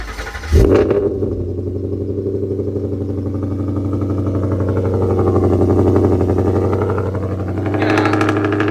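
A deep, throaty V8 exhaust of a 2012 Ford Mustang 5.0 with stock resonators fires up and holds a loud, rumbling idle with light revs, steady and close, no talking.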